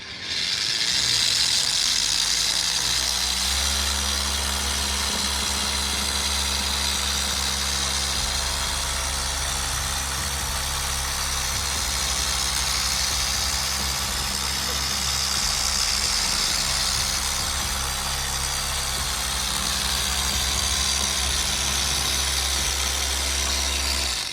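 A steady mechanical whir of a cordless dual action polisher running continuously, moderately loud and close, with a constant motor hum and no pauses.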